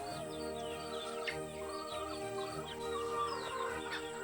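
Chickens on a farm, kept alongside rabbits, cluck and chirp in scattered short calls over a steady low background hum, moderately near with no talking.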